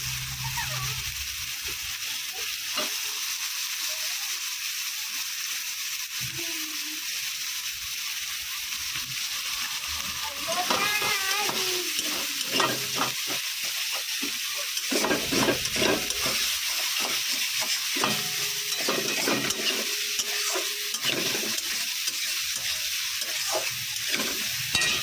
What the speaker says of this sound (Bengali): রসুন বাটা, এবার দিয়ে দিলাম পেঁয়াজ কুচানো পেঁয়াজ